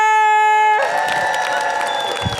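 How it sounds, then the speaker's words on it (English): A crowd at a live Demon Slayer voice actors' panel at Game On Expo 2025 breaks into cheering and applause after a short held musical tone, then the noise slowly fades. "give a raucous round of applause for my lovely friend Xander"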